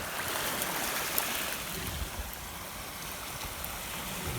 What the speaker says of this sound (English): Let me give it a quick rinse.